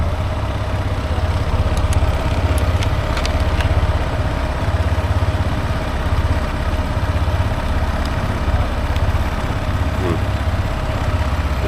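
A motorcycle engine idles steadily and loudly nearby while it charges, a constant low rumble with faint clatter and no talking.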